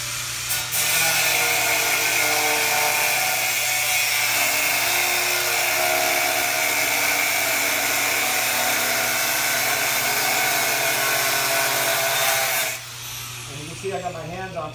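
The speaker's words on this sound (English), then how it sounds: "So here's a way of using an angle head grinder essentially as a press brake." An angle grinder cuts a thin piece of sheet metal, giving a loud, continuous high-pitched whine and grinding rasp for about twelve seconds before it stops and winds down.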